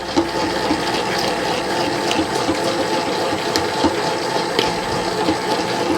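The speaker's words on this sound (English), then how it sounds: "It's bubbling and cracking and popping." Biga pizza dough churning in a mixer, with steady wet bubbling, cracking and popping over a constant motor hum, close and fairly loud with no talking.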